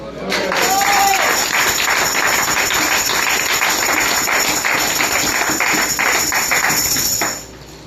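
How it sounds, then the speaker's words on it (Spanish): A church congregation at an anniversary service applauds loudly and continuously for about seven seconds, with dense overlapping claps that stop abruptly at the end. "Dale un aplauso al Señor."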